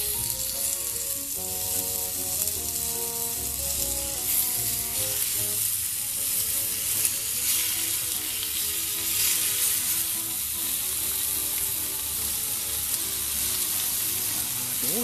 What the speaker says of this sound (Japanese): とりあえずちょっとまたお肉焼いとこうかな。